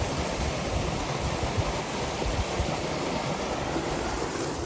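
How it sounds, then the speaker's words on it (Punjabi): A farm water pump motor runs while water gushes out in a steady, loud, unbroken rush that fills the whole stretch, with no voices. "ਲਓ ਜੀ ਮੋਟਰ ਚੱਲ ਰਹੀ ਆ"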